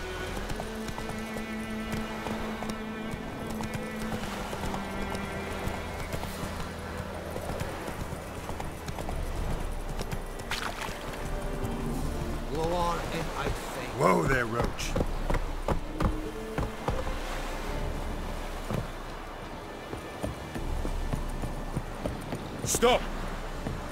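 Hooves clip-clop in a rapid gallop as the horse Roach runs in The Witcher 3, rhythmic thuds over game music and ambience, with a voice speaking partway through.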